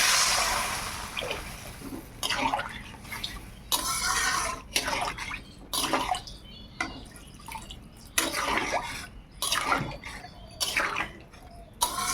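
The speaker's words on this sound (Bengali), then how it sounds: "এবার আমি জল দিয়ে দিলাম।" Water poured into a pan of simmering jackfruit and prawn curry, splashing in repeated bursts with short pauses between, fairly close and moderately loud.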